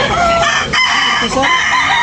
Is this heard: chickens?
yes